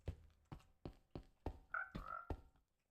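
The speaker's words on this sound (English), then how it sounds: "Oh, frogs." Frogs croak in a video game, a slow, regular series of deep, close croaks about half a second apart, with a brief higher call near the end.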